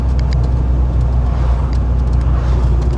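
A Mini-based Gecko kit car drives along with a steady, close low engine drone and road rumble, and faint clicks and rattles sit on top.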